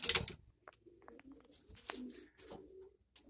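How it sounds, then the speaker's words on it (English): White doves in a backyard dove loft give soft, low cooing calls. The calls are close and quiet, with a brief knock or clatter at the start. "And I have some birds trying to come in."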